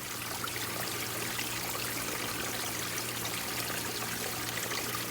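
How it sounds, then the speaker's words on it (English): A garden wishing-well waterfall trickles in a steady, soft stream of falling water over a faint low hum, unbroken from start to finish and with no voices. "it's a Wishing Well waterfall after all."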